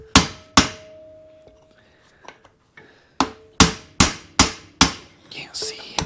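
A hammer drives a pin out of a Ford brake drum, heard as sharp, ringing metallic strikes: two blows, a pause with faint clinks, then a quick run of five hits close by.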